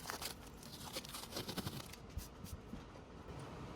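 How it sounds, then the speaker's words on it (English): Blue tape peeled off a casting mold before burnout, a faint close crackling and tearing with several quick rips, alone and quiet. "we need to first remove the blue tape."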